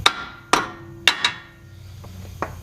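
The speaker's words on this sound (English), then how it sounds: "I'm just going to use a hammer since we're not reusing it." A hammer strikes a worn tie rod on a 2003-or-later Saab 9-3 during a DIY tie rod replacement. Four sharp, close metallic blows ring out in quick succession, followed by a couple of lighter taps, with no talking.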